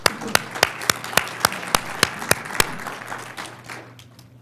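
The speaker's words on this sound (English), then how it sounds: "Nice round of applause," Applause from a small audience at a business insurance group's annual meeting: distinct, evenly spaced claps ring out at a steady pace, then thin and fade away toward the end.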